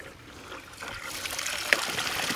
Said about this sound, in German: So, jetzt kommt normales, klares Wasser unten vom Teich